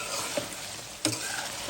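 Vegetables with mixed fish being stirred and sautéed in a pan for a broad bean, potato and eggplant curry: steady close sizzle and frying hiss, with two brief scraping stirs of the spatula.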